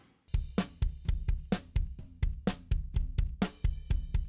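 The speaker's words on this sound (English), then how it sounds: "Let's listen to the kick and the snare." Kick drum and snare drum tracks soloed from a rock mix, playing a steady groove of punchy low thumps alternating with bright cracking snare hits, close and dry with no voices.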